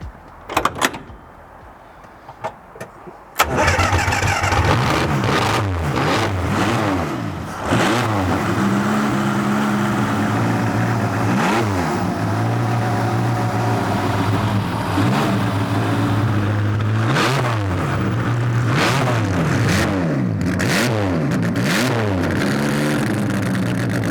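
A Bugatti Type 35B racing car's engine fires up after a few faint clicks, then roars loud and close with repeated sharp revs and a hard, raspy idle between blips.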